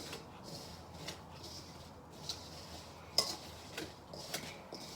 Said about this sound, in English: Then you're going to take a whisk. You're going to mix your ingredients together.